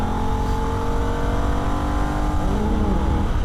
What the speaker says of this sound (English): Upshift second to third, and then again to fourth just before the kink.